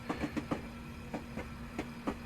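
Class 158 diesel multiple unit in Train Simulator Classic, pulling away from Morpeth onto a curve, with rhythmic wheel clicks over rail joints repeating in quick pairs above a steady low rumble and hum.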